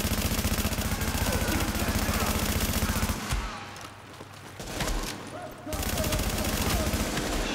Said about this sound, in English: Shotgun was shooting me.